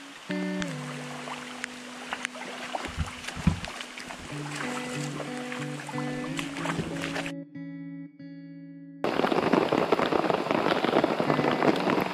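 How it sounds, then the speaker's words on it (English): Steady rain patters on a surface at a stormy campsite in Guam, mixed with humming tones, then a brief drop in sound before a louder, denser rush of rainfall returns. "It's been raining for like 2 or 3 hours now."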